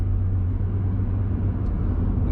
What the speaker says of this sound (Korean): 차량 이렇게 달려보면